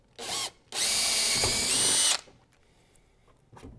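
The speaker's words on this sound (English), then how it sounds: "I'm going to drill the holes and attach them." A power drill whirs in a short burst, then runs loudly for over a second before stopping while drilling holes to mount an H-bar on a Hobie Outback kayak, close by with quiet pauses between.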